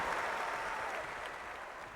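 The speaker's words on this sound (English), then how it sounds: "They cheer for you, my friend." Two companies of troops cheer for their general in a game, a faint, distant crowd roar and applause-like wash that slowly fades.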